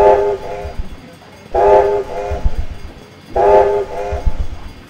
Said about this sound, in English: let's use the whistle now.